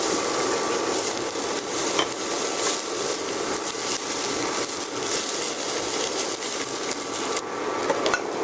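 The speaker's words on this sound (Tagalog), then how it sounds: "I-fry ko muna to bawang." Garlic frying in a pan: a steady, dense sizzle hisses continuously, close and even throughout, with a few light clinks of a utensil against the pan.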